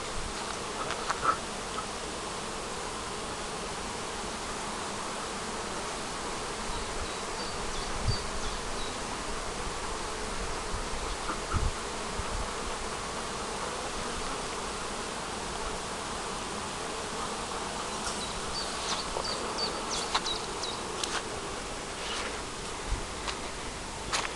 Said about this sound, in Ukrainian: І бджілки працюють. Зараз третя година дня. Бджілки працюють.